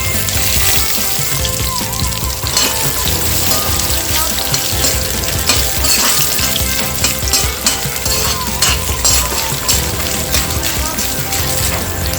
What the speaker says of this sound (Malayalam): ഇതിലേക്ക് നമുക്ക് ചെറുതായിട്ട് അരിഞ്ഞു വെച്ചിരിക്കുന്ന തേങ്ങ കൊത്തി ചേർത്ത് കൊടുക്കാം.